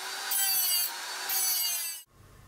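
A hardened steel mandrel adapter is ground, throwing sparks, producing a loud, steady high-pitched abrasive hiss that swells and eases twice before cutting off abruptly, leaving a faint low hum.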